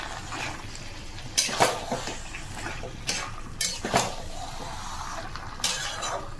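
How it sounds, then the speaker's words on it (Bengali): A spoon scrapes and clinks against a pan as masala and chicken cook together, a few distinct metallic strokes over a quiet background hiss in a home kitchen. "এবার আমি এটাকে চাপা দিয়ে সুন্দর করে কষবো।"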